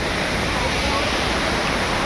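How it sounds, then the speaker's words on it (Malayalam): A waterfall at Munnar with tourists nearby, a dense, steady roar of rushing water that stays loud and even throughout, close by and with no breaks. "ഇതാണ് വെള്ളച്ചാട്ടം"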